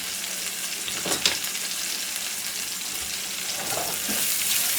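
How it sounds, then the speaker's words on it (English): Onion and celery stirred in melted butter in a skillet, a steady soft sizzle with a spoon scraping through briefly, close and alone without talk. "We're going to add in our onion and celery. Go. Give that a stir."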